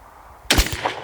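A single sharp, loud rifle shot from a .308 BCA upper firing Match King bullets over IMR 4895 powder, a hard crack with a booming low thump and a short ringing tail outdoors.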